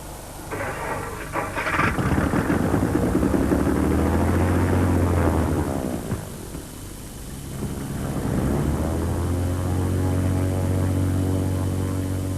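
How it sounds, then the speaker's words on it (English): A single-engined Piper Saratoga light aircraft drones steadily overhead with a continuous engine and propeller hum that swells, dips briefly, then rises again, heard fairly near and with no talking. "The single-engined Piper Saratoga flies from Ipswich to Budapest non-stop"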